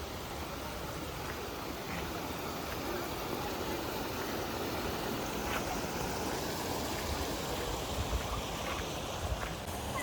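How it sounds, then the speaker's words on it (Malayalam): Water rushes steadily in a stream at Kottiyoor, a continuous broadband wash with faint wind buffeting the microphone and no clear voices. "നല്ല ഒഴുക്കുണ്ട് ഇവിടെ"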